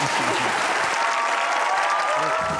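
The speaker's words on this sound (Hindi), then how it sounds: "तालियां होनी चाहिए सलमान साहब के लिए" A studio audience at a comedy talk show breaks into loud, sustained applause, thick and continuous from start to finish with a faint crowd murmur underneath.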